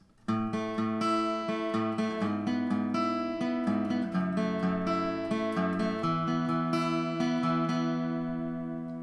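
Fingerpicked acoustic guitar plays the intro of a song, a flowing pattern of plucked notes over ringing chords, close and clear, trailing off at the end.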